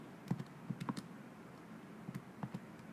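Numbers are keyed into a calculator in a series of faint, light button clicks spaced irregularly over a quiet background.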